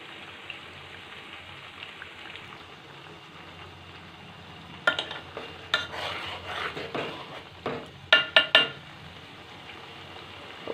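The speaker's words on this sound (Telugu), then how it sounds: "ఆయిల్ మరుగుతుంది." Homemade hair oil boils in a pan over a low flame. A soft, steady crackling simmer grows busier and livelier partway through, with a few sharper pops near the end.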